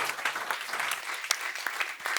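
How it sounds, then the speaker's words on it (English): Audience applause for a panel at the Europa-Forum Wachau, a steady dense patter of many clapping hands filling the hall, moderately loud and continuous without voices. "A big round of applause for this wonderful panel"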